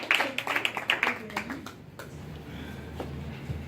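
A church congregation claps briefly and unevenly, with a few distinct hand claps early that fade into room murmur and low voices.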